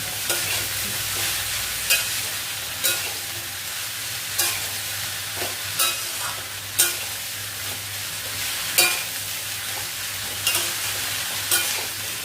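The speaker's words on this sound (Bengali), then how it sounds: "গ্যাসের ফ্লেমটা একটু বাড়িয়ে দিয়ে লাউটা দিয়ে দেবো। এবারে আমি এটাকে নাড়াবো।" Bottle gourd frying in a pan over a raised gas flame, with a steady sizzle punctuated by regular scraping strokes of a spatula stirring, roughly one every second or so.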